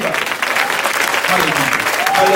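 Loud, dense clapping from a conference congregation fills the space, with voices and a brief raised tone heard through the applause.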